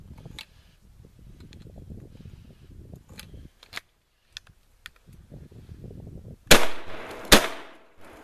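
A Century Arms SPM-12 coach shotgun fires two loud, sharp blasts close together at soda cans outdoors in the cold, after a stretch of quiet handling clicks and rustling.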